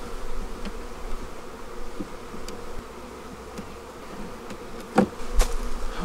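Honey bees buzz steadily around an open hive as it is moved into a bee barn, a dense close hum with occasional sharper knocks and clatters from handling the boxes.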